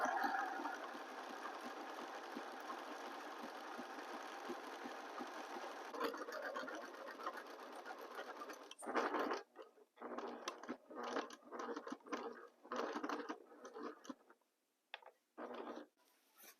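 A sewing machine stitches the top part of a snowman hat, running in a steady, continuous whir for several seconds, then breaking into a series of short, stop-start bursts separated by brief pauses.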